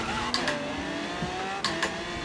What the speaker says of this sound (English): It's a good drift on this corner.